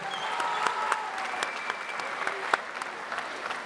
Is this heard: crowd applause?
yes